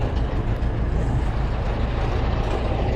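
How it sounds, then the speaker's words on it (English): A truck rumbles steadily past at an antique car show, a continuous loud low engine and road roar filling the whole stretch with no breaks. "You hear that truck going?"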